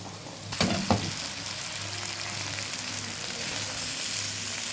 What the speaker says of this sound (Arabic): ودي البصلايه ايه هنحمرها ونروح حاطين عليها الشعريه